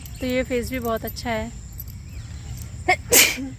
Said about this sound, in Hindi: जैसे अभी मुझे छींक आ गई